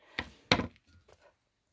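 A large knife chops through a head of cabbage for sauerkraut, two firm, close thunks on a board about a third of a second apart, followed by a few softer cuts.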